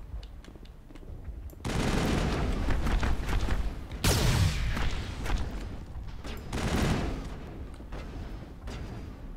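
Sustained gunfire aimed at the player in the video game Mass Effect, dense rattling bursts with a sharp boom near the middle, loud and continuous with no pauses.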